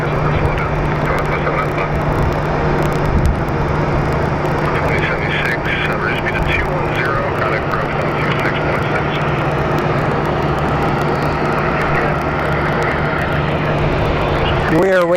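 Airbus A321neo jet airliners roar at Phoenix Sky Harbor International Airport, a loud sustained engine drone with a whining tone rising midway, while a person talks over it.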